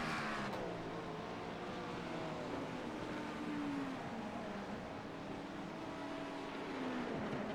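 A BMW hypercar race car in an IMSA racing game drives past, a steady engine drone with a brief rising whine in the middle, with no talk.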